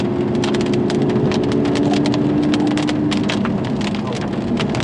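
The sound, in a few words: heavy rain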